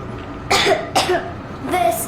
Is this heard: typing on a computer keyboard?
no